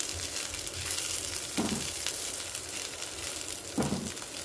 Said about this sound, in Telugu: అదే ప్యాన్లో కరివేపాకు వేసేస్తున్నాను.